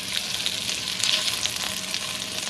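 Breakfast food frying in a pan, a steady close sizzle with crackling pops and light spatter running without pause, with faint scraping as the food is stirred.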